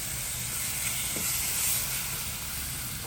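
Chili dropped into hot oil for a Tamil-style egg curry sizzles steadily, a close, continuous frying hiss with no voices over it.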